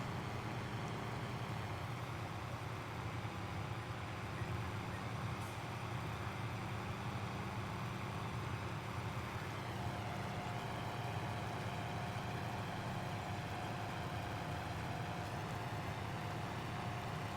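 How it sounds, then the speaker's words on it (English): A steady, low tractor engine drone in Farming Simulator 22 runs throughout with a constant mechanical rumble and faint airy hiss, even and unbroken, with no talking. "I like the sounds that the tractor makes when it's running this."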